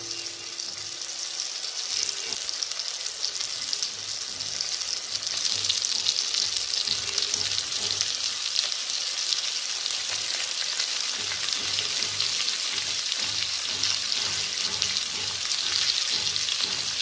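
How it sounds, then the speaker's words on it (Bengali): Fish sizzling loudly as it fries in cooked spice paste, a dense continuous crackle and hiss close by with no talk. "মশলাটা আমার কষানো হয়ে গেছে, এবার আমি এর মধ্যে মাছগুলো দিয়ে দেবো।"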